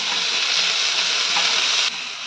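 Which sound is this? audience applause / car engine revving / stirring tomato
stirring tomato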